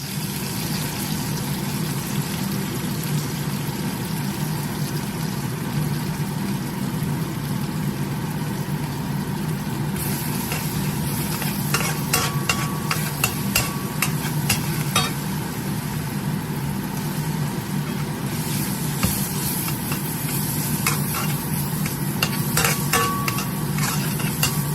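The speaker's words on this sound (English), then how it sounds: "And now put the gingers in." Ginger frying in a pan for Sichuan noodle sauce, a constant close sizzle with a bursts of rapid spatula scraping and clatter as it is stirred.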